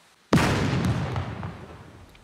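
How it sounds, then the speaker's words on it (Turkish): A sudden heavy explosion in the survival video game SCUM hits sharply and then rolls off into a long, decaying rumble with scattered debris crackles, loud and close, with no voices over it. "Evet, patladı abi."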